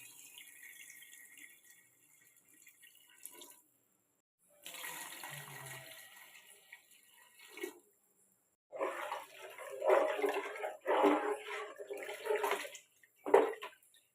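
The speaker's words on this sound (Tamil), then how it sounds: "தேவையான அளவு தண்ணி ஊற்றிக்கலாம்." Water is poured into a pot of sautéed mushrooms for biryani in several separate bursts, splashing and gurgling loudly between short quiet gaps.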